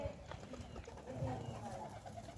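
Domestic pigeons cooing softly in a low, throaty murmur at a loft, fairly faint amid background noise, with a voice faintly present.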